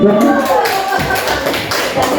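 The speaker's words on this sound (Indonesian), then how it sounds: "Tepuk tangan dong buat kita." An audience at a school teachers' training session claps in brief, uneven bursts of nearby hand claps, with talk overlapping at the start.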